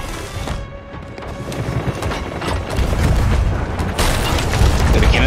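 Cannon fire in the pirate game Sea of Thieves during a ship battle on rough waves: repeated loud booms and crashes over a churning, noisy sea backdrop, with a heavier blast near the end.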